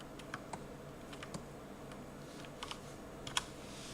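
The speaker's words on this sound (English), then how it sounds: "I'm typing and drawing." Quiet, scattered keystrokes on a keyboard, a dozen or so light clicks in short bursts over a low background hiss.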